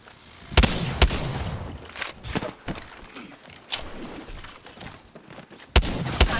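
Gunfire in the online shooter Apex Legends: sharp, loud shots at irregular intervals, with scattered quieter pops and crackles between them, and no voices.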